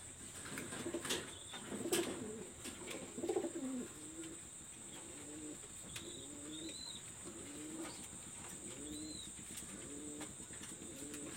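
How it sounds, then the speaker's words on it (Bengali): Pigeons from local Bangladeshi and imported bloodlines coo softly in repeated rolling phrases at a loft in Khulna, fairly quiet and close, with a few brief higher chirps and wing rustles mixed in. "একবারে অরিজিনাল বিডির কবুতর এবং ইনপোর্ট ব্লাড লাইনের কবুতর অবশ্যই আপনারা দেখতে পাচ্ছেন"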